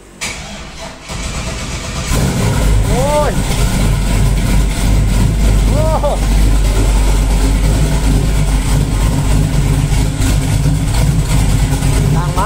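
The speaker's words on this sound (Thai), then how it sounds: "คือถ้าสตาร์ทรถคันนี้ห้ามคุยกัน" A custom Chevrolet Camaro fires up with a sharp crank, then settles into a loud, heavy, rumbling idle that holds steady throughout, nearby, with a brief exclamation from someone just before the start.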